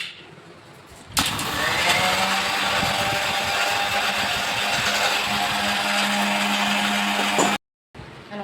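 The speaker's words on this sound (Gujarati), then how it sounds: "હવે મિક્સર એમાં કાઢી નાખી." An electric mixer grinder blends green pani puri water with ice. After a second of quiet it starts with a jolt, then whirs in a loud, steady, high-pitched drone for about six seconds before cutting off abruptly.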